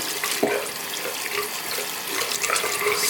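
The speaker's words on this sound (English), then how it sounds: "I run it under the water," Bathroom tap water running over a black Beauty Blender makeup sponge, a steady close rush from the faucet with a brief splashing change as the sponge goes under.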